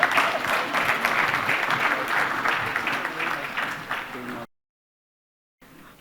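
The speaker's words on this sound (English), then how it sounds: "Let's have a big round of applause for everyone." An audience at a panel discussion event in India applauds in a dense, sustained burst of clapping that fills the room for about four seconds, then cuts off to silence before faint room tone returns.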